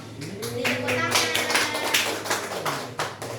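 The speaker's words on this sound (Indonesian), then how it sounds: "Tepuk tangan." A class of students claps hands, a close burst of uneven rhythmic claps that keeps going for a few seconds before thinning out.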